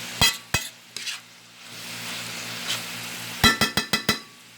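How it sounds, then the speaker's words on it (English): Bowtie pasta cooks in a pot and is stirred with a utensil. Sharp clinks and scrapes against the pot come in two clusters around a soft simmering hiss in between, with no talk. "give it a good stir again."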